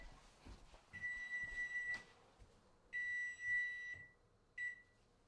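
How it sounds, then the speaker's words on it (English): A kitchen timer signals that sweet potatoes are done. It gives a few shrill electronic beeps: one long tone, another long tone, then a short final one, fairly faint against a quiet room. "my sweet potatoes just beeped"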